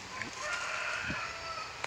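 Native Nong Kho Thai chicken rooster calling outdoors, with short crowing and clucking bursts at moderate distance over steady background noise.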